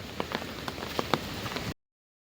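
Steady rain falls on a surface, a dense hiss of patter with scattered louder drops. It stops abruptly after about a second and a half.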